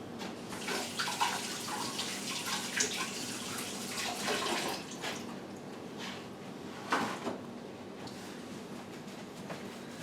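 Running tap water flows steadily as hands are washed in a home kitchen, a soft, even rush with occasional splashes.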